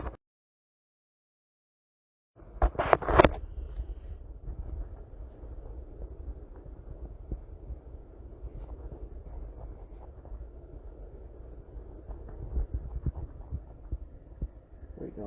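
An air-conditioning blower fan kicks on after a silent pause, with a brief clunk followed by a steady low throbbing hum that continues to the end.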